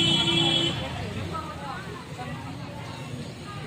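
Busy street traffic rumbles and hisses around the listener, with a horn early on and a crowd's murmur and nearby voices mixed in.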